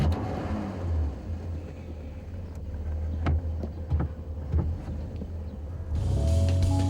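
A 1951 Opel Kapitän "Kapinator" tuned to 180 horsepower being driven, a deep steady engine rumble with faint clicks and knocks, swelling louder near the end as the car accelerates.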